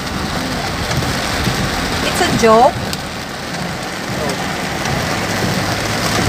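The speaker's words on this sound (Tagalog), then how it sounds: "Baka may bagyo." Heavy rain pours down in a steady, dense hiss throughout, with a brief voice breaking in partway; any thunder is not distinct.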